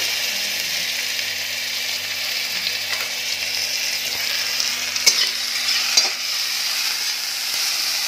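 Panch phoron spices, onion and green chilli fry in hot oil, a loud, continuous sizzling hiss with occasional scraping stirs and small pops.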